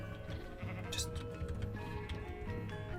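Sheep in the video game Minecraft bleat several times over a busy game soundscape with faint ticking, the calls fairly close and distinct but moderately quiet overall.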